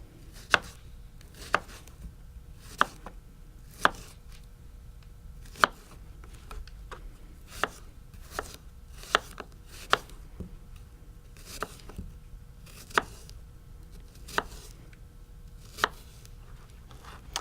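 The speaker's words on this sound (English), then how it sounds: "And then I'm going to slice it into thin wedges." A knife slices a pitted peach into thin wedges on a cutting board, giving sharp, evenly spaced taps that repeat steadily over a quiet background.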